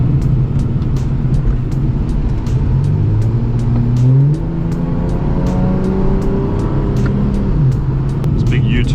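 A Ford AU Falcon sedan with new brakes drives a winding road, engine droning steadily with rising and falling revs through the corners and a clear upward sweep as it accelerates, heard from inside the cabin.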